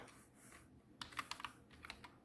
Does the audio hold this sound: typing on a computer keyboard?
yes